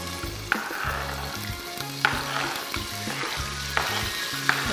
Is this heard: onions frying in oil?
yes